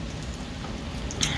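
Rain falling in a steady, soft hiss with scattered droplet taps, moderately quiet and even throughout, with one brighter splash near the end.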